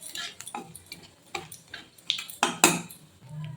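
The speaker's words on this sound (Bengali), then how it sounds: "ফোড়নগুলো একটু ভেজে নেব।" Black cumin seeds, two dried red chillies and whole cumin fry in hot oil as the base for a hilsa and aubergine curry, giving irregular sharp crackles and pops close by with no talking.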